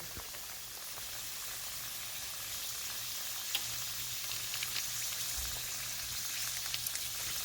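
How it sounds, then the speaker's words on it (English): Fish curry egg rolls sizzle steadily in hot oil over medium-high heat, a constant soft crackle with occasional sharper pops and no voices. "I got my oil, medium-high heat, and I'm just going to pile them in here"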